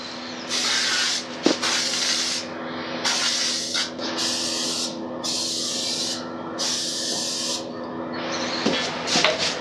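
Primer sprayed from a spray gun onto Honda Transalp motorcycle fairings in six close, loud hissing bursts of a second or so each, separated by short pauses, with a big fan humming steadily underneath.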